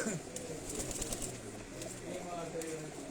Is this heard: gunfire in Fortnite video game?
no